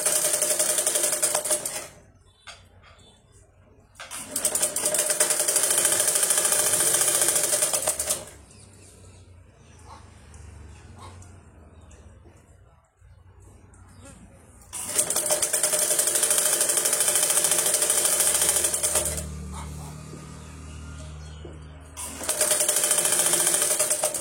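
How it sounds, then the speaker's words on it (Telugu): Sewing machine stitching cloth for tailoring, loud whirring runs of rapid needle clatter that start and stop in long bursts, separated by quieter stretches of handling noise. "ఇక మొత్తం ఇలాగే చక్కగా కుట్టేసుకోవాలి. ఇది మొదలుకొని ఇక చూడు ఎలా కుడుతున్నాను."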